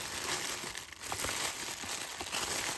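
Wrapping paper on a gift box crinkles and rustles close up as it is handled and unwrapped, a continuous dry crackling with small sharper crunches throughout.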